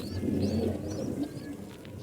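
A domestic pigeon kept for breeding coos in low, throaty pulses close by, with faint chirps from other birds above a steady background.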